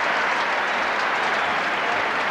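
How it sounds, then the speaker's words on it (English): Crowd applause fills a Football Park stadium during a 1993 Australian football match between Adelaide Crows and Collingwood, a steady dense roar of clapping and cheering throughout with no break. "winning applause at Football Park"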